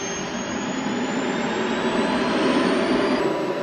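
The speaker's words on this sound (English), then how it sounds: "The engine noise is so loud, it's the only way they can hear each other." A loud, steady helicopter engine roar and whine, close and constant throughout with no breaks.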